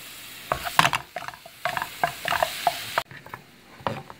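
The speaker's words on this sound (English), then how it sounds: "just put that in a skillet here, because what we're going to do is brown that up, drain off the grease" Ground beef browning in a skillet, with a soft sizzle under irregular scraping and stirring knocks from a utensil against the pan, close and fairly loud.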